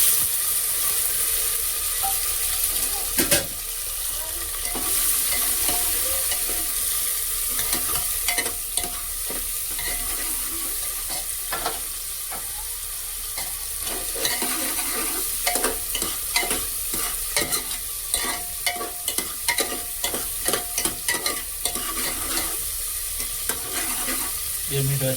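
Tomatoes and garlic frying in a pan in a village home kitchen, a steady close sizzle broken by frequent clinking and scraping stirs throughout, with no talk.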